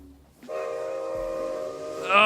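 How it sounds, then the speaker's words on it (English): A train whistle in the Minecraft Create mod gives one sustained, harmonic-rich blast of about two seconds, steady and fairly loud, rising brighter and stronger right at the end. "Oh, the whistle is so cool on it!"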